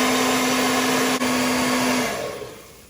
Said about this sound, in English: I'm just going to use a regular hairdryer here. So I'm going to turn it on